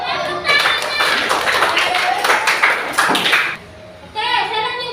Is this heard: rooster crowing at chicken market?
no